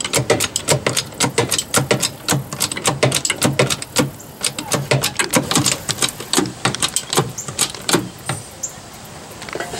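A hand jack lifting an RV travel trailer ratchets in quick, close, repetitive metallic clicks with brief pauses between runs of cranking, and no talking.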